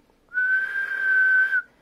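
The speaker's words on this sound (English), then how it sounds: "so if I whistle it up" One steady whistled tone into the microphone of an Icom IC-7300 radio on 10 meters, held for just over a second, clean and close, starting and stopping abruptly against near silence.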